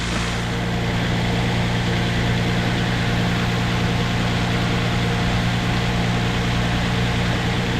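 A 2024 Toyota Tundra engine idles steadily after a cold start on 5W-30 oil, a low, even hum with a faint whine, heard alone at moderate level.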